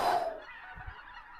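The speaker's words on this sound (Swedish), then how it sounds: "Nej, det är nog gäss tror jag. Hörs som gäss." Geese honk overhead in flight, a short burst of calls near the start that fades as the flock passes, followed by a faint low rumble.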